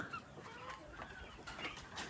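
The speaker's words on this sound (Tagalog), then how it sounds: "Ayan yung mga ating alagang manok" Quiet, scattered clucking from a few chickens nearby, soft and irregular, with light rustling in the background.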